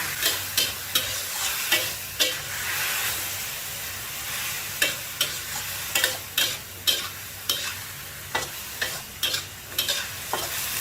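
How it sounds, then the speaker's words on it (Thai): Onion flowers and fish strips stir-fried over high heat in a wok, a constant loud sizzle broken by regular clacking scrapes of a spatula, close and busy, with no voices. "เปิดไฟแรงค่ะทำการผัดค่ะ"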